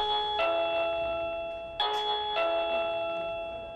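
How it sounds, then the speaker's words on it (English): An electronic doorbell at a hotel chimes twice, its bright ringing tones lingering and slowly fading in a quiet room. "The doorbell at the Southern Comfort Inn is the sound of someone wanting to spend the night"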